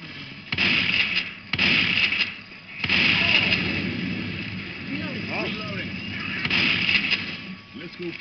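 Shotgun blasts in the video game Left 4 Dead 2, several loud booming shots in irregular bursts over a constant rumbling game background, with a voice talking in places.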